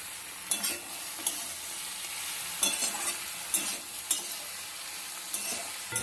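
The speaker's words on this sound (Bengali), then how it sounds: "ভালো করে নাড়িয়ে দিয়ে কষিয়ে নিতে হবে একসঙ্গে সব কিছু দিয়ে" Masala with tomato for a Bata fish curry being stirred and fried in a pan: a steady close sizzle with repeated scraping strokes of the spoon at irregular intervals, no voices.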